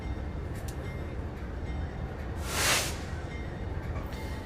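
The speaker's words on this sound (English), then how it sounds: "here we have the Genesee and Wyoming, Buffalo and Pittsburgh America 250 locomotive" A Genesee and Wyoming Buffalo and Pittsburgh locomotive in America 250 livery passes at Spencer. Its steady, broad rumble rises to a hissing swell midway and then eases, heard from a moderate distance without speech.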